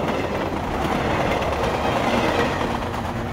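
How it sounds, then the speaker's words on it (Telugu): A train leaving a station, heard close and loud as a continuous rumble with a rhythmic rattle of wheels over the rails, and no voices. "అయ్యయ్యో, ట్రైన్ వెళ్ళిపోతుందండి,"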